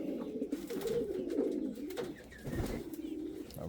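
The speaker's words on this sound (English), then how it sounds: "A very active male pigeon right here." A male pigeon coos in a busy breeding loft, the low soft rolling calls rising and falling continuously at close range, with a few brief clicks and shuffles in between.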